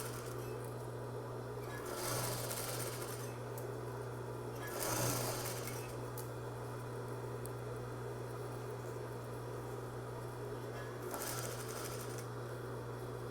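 A sewing machine runs steadily while stitching the facing onto the lining of a messenger bag, a continuous whirring hum with a few louder bursts of handling, close by and without talk.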